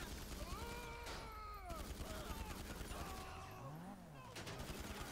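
Rapid bursts of gunfire from GTA Online crackle steadily throughout, mixed with tonal chatter and voices talking over the shooting.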